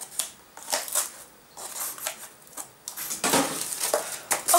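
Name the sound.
cutting cardboard packaging with scissors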